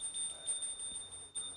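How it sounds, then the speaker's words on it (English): A small bell rung during a Hindu ritual food offering, its thin, sustained high ring continuing steadily and faintly throughout, with no speech. "please ring the bell as you do so"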